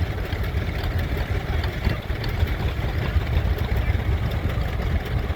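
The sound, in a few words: John Deere crawler engine idling at engine show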